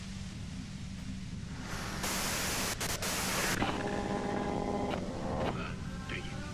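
Hissing white-noise static in the video game Disco Elysium, a steady broadband wash that swells louder for a couple of seconds midway and then settles, with faint tonal hum lines running beneath it.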